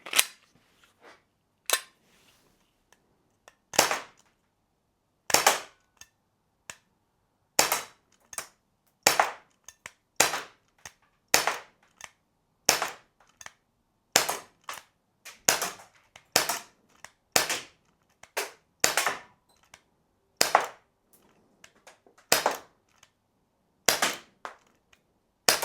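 Glock 17 Gen 5 BB blowback airgun firing: sharp, loud cracking shots in irregular bursts and singles, each with a snappy slide clack, separated by short silences across the whole stretch.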